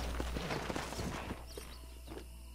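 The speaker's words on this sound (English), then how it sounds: "sabe que eu tô montando qualquer cavalo que apareceu aqui" Rapid clip-clop of horse hooves as a rider gallops in Red Dead Redemption, a steady quick beat that drops to softer, sparser steps near the end, with no one speaking.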